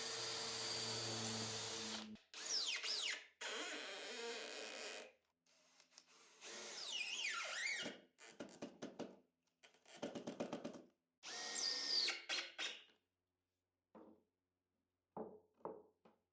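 Power drill whirring in several short bursts as screws are driven into the side panels of a silicone rubber mold box, with brief knocks and pauses between runs, close and fairly loud.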